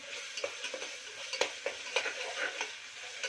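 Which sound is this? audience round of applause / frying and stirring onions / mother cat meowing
frying and stirring onions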